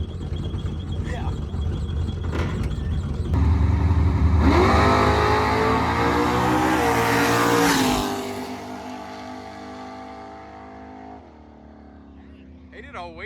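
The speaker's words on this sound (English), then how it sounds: "Sounds like a race car at least." A V8 Dodge Dart with a four-speed launches at a drag strip, its engine revving hard and roaring up through the gears before cutting off; voices talk around it.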